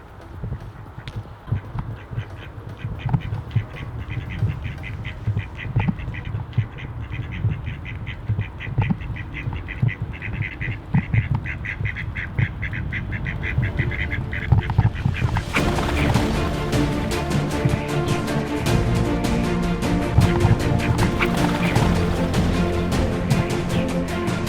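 Ducks and ducklings quacking and honking together on a street at night, a dense continuous chorus that grows louder and fuller partway through.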